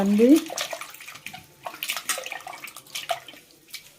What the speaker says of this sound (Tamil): இன்னொரு வாட்டி நம்ம அலசி ஊற்றுவோம்.